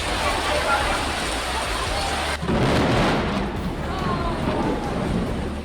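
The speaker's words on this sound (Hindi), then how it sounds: "जोरदार बारिश से पूरे रतलाम में सैलाब आ गया।" Heavy monsoon rain pours down steadily during flooding in Ratlam, Madhya Pradesh, a loud, dense hiss with a deep rumble underneath that swells slightly partway through.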